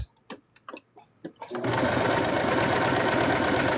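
A sewing machine stitches plush fabric. A few short knocks and taps come first, then the motor starts up into a loud, steady, close whirring run that continues to the end.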